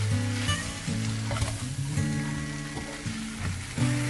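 Noodles with mixed vegetables and liquid Maggi seasoning sizzle in a hot pan as they are stir-fried, a steady crackling hiss punctuated by repeated scraping tosses and clinks of the utensil against the pan.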